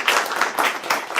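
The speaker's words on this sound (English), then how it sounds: "Can we get a round of applause for Dr." A seminar audience claps for a guest presenter at an agribusiness meeting, producing a steady, dense patter of hands that stays fairly even and close throughout the brief burst.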